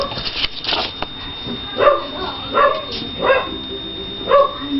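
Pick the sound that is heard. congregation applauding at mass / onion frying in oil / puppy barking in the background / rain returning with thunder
puppy barking in the background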